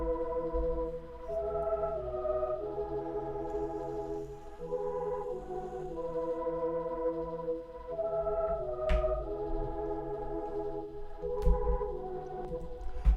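A soft synth pad layer from the Pad Micro Serum patch of the Vinexi bank, playing a slow chord progression in a smooth, sustained wash with a low bass underneath and occasional faint percussive ticks, for a beat.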